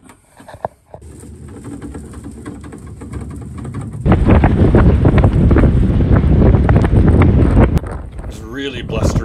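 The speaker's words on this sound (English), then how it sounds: "Really blustery day" Strong gusty wind on a sailboat on a blustery day, heavy buffeting and rumbling against the microphone that surges louder midway and keeps roaring in uneven gusts.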